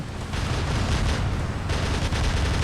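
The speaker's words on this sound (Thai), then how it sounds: "ปืนลั่นว่ะ" Gunfire rattles without pause during a War Robots 11.7 match involving a Leo Tempest Molot T robot, a dense, loud run of rapid shots that surge in intensity partway through.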